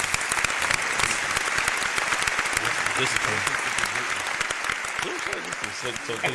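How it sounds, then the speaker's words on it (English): A crowd applauds steadily throughout, dense continuous clapping with voices mixed in. "Round of applause"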